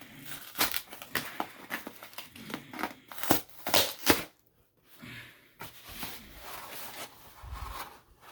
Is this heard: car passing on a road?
no